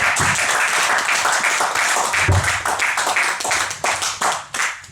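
A church congregation applauds after a scripture reading, loud rhythmic clapping in unison that keeps a steady pulse before trailing off into scattered claps.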